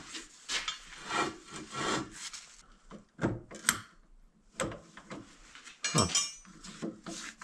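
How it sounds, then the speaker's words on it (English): Irregular bursts of grinding and scraping from a drill biting into a part for a large grapple claw build, starting and stopping in uneven spurts, close by. "You guys get to listen to a bunch of weird drill noises."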